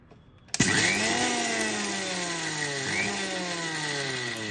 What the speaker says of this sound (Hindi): तो इसे ब्लेंड करना है पल्स पे,